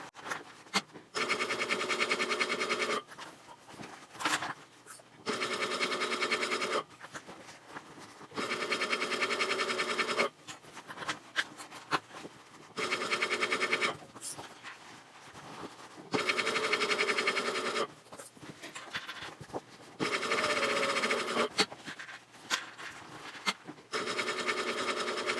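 A sewing machine stitches binding around a zippered fabric pouch, running in repeated loud bursts of fast whirring with short pauses between them as the work is turned.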